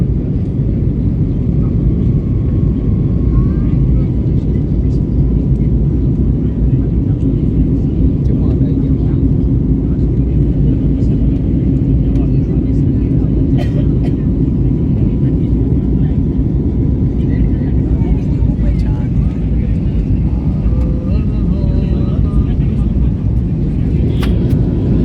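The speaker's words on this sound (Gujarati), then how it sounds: "પ્લેન ઉડી ગયો આકાશમાં ફૂલ સ્પીડમાં" A fixed-wing airplane at Bangalore International Airport roars loudly and steadily as it takes off, a continuous broad rumble that holds for the whole stretch, with faint voices nearby.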